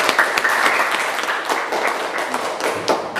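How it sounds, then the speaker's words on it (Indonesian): Applause and clapping from children in a classroom during an Islamic religious education lesson, a steady burst of many hands lasting a few seconds, fairly close with scattered sharper claps. "Tepuk tangan."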